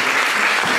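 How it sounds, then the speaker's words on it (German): Brief burst of dense audience applause at a satsang festival in Vienna, steady and fairly loud for under a second. "Dann herzlichen Applaus."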